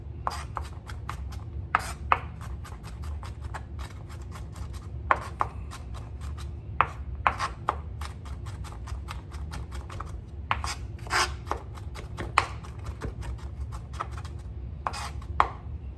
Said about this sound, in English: Now I'm going to cut up my 2 cloves of garlic.